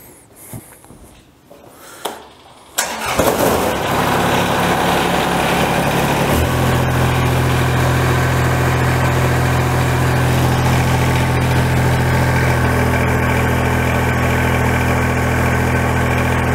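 Kubota BX tractor engine is cranked and catches after a few seconds of quieter clatter, then settles into a steady, loud idle with a constant low hum that continues to the end.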